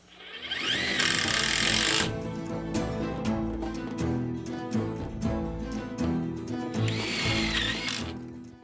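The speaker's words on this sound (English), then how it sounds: "to get these self-tapping screws to drill through that metal" A power drill whines loudly as it drives self-tapping screws into metal roof beams, with grinding bursts, a rhythmic ratcheting middle, and a second high-pitched run near the end.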